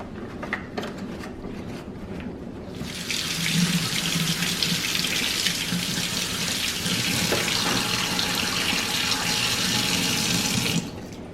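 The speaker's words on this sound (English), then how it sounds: "I run this through just some water and clean that out as well" Water gushes steadily from a kitchen faucet into a sink, starting suddenly after a few seconds of quieter clatter and running continuously before cutting off.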